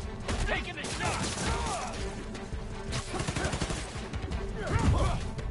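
Gunshots and combat noise in the PS5 game Spider-Man: Miles Morales, with dense crackling impacts and bursts throughout and a sharper blast near the end, set against a busy game soundtrack and some talk.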